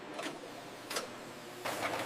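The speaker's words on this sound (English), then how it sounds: "Lids drop into place with metronomic regularity." Papaya-processing canning line in a food factory drops lids onto cans, giving three sharp metallic clatters at regular intervals over a steady mechanical hum.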